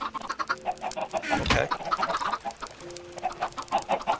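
Minecraft chickens cluck in short repeated bursts on a chicken farm, fairly close, with a brief louder flutter midway and one soft spoken word.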